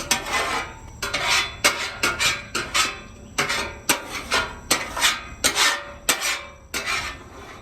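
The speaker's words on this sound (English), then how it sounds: "we're just going to scrape all that bacon grease" A metal scraper pushes bacon grease across a new Blackstone griddle in repeated close, loud strokes, each one a harsh gritty rasp of steel on the flat-top, with brief gaps between passes.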